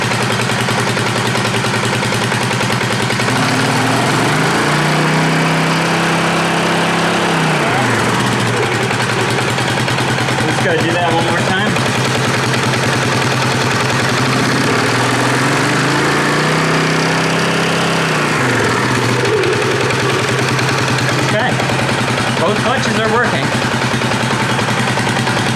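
An engine runs at middle throttle after being pushed too hard on a previous trip, a loud, steady close drone that dips and swells twice in pitch, with possible voices underneath.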